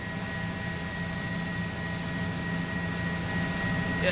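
News helicopter hovering about 1,200 feet above a crash site during breaking coverage, heard as a steady, continuous rotor and engine drone with a broad airy wash, loud and unchanging throughout with no talk.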